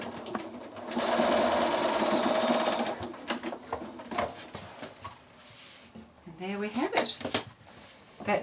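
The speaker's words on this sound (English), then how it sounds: "back to the sewing machine with that, and we're just about done" A sewing machine stitching a drawstring bag runs in a fast, steady whir for about two seconds, followed by softer clicks and a voice speaking nearby.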